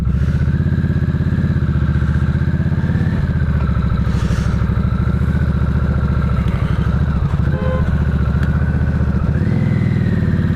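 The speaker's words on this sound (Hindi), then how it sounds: "चलाते हैं इस बाइक को, एक्सपीरियंस करते हैं हार्ले डेविडसन नाइटस्टर स्पेशल एडिशन को" A heavy 2025 Harley-Davidson Nightster Special engine idles loudly and close, with a deep, lumpy rumble, shifting in pitch slightly as the throttle is blipped.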